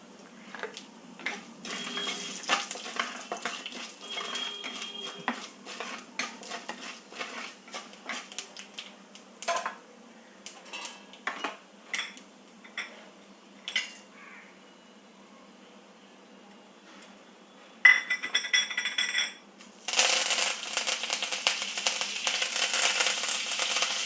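Mustard seeds and urad dal frying in hot oil crackle and pop in scattered sharp bursts, sparse at first, then turning to a steady loud hissing spatter toward the end.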